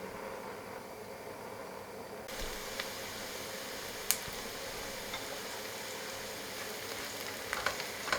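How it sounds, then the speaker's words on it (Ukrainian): Onion frying in a heated sauté pan, a steady soft sizzle that jumps louder partway through, with an occasional faint tick or scrape of a utensil. "загружаємо сюди цибулю і жаримо її до м'якості"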